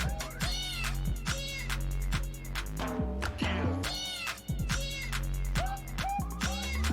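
A pet cat named Ptolemy meows repeatedly in a quick run of close, loud calls, with a brief quieter pause partway through.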